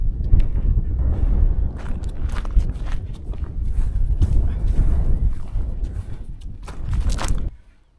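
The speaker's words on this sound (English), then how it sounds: "Got some quite strong gusts though" Strong gusty wind on a hike through the Yorkshire Dales buffets the microphone in rumbling, uneven bursts, loud and close throughout, easing off abruptly near the end.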